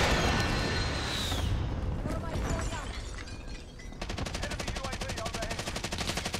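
Gunfire in Warzone rattles close and loud, with single shots and then a rapid automatic burst near the end, under players talking.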